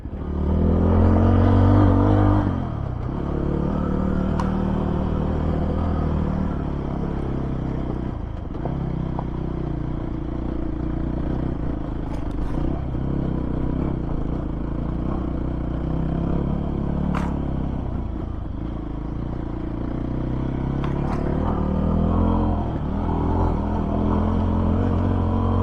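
A Voge 300 Rally motorcycle rides off-road with a continuous engine drone and low rumble, joined by clattering and scraping from rough terrain. The sound runs steadily for the whole stretch with short louder bursts.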